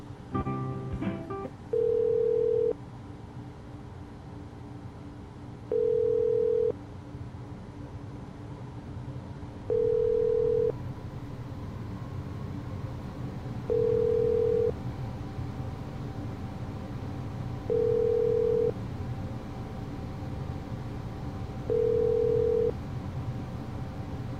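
Phone line ringing during a call: a repeating ring tone, short bursts roughly every four seconds, six in all, over a steady hiss of line noise with no voices.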